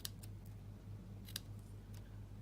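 Scissors snip card stock in a few quick, crisp cuts, faint and close, over a steady low hum.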